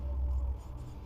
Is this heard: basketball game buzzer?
no